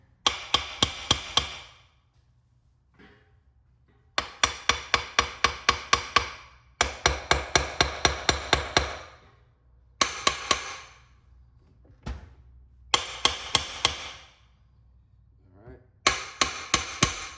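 A light hammer taps the dowels of a Honda TRX400ex engine case into place, delivering bursts of quick metallic strikes in rhythmic runs separated by short pauses, close and clear.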